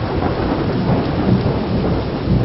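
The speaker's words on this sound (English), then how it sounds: "lightning snaked everywhere in the sky, revealing the silhouette of a massive tornado ripping across the field" A thunderstorm with steady heavy rain and low rolling thunder rumbles continuously, loud and close, with no voices.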